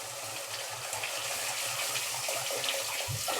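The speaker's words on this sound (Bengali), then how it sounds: "এবার জল দিই মাপ করে।" Water pours steadily into a pan of mustard pabda fish curry with a continuous rushing gush, close and even in level.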